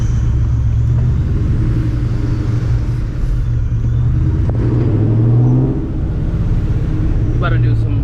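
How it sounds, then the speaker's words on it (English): A supercharged 2004 Mustang GT engine rumbles loudly close by inside a garage, with a swelling rev and a few sharp popping backfires near the end. "A little backfire."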